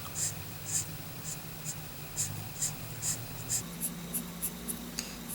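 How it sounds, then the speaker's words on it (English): Ink marker coloring a drawing on paper, giving soft, regular scratchy strokes close by, each a brief rhythmic rub, quiet under a low background hum. "notice how I'm coloring from this side to this side"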